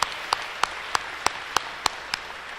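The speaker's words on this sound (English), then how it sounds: "Big round of applause." Audience at a high school athletic banquet claps, with sharp regular claps standing out above a steady wash of applause for a few seconds.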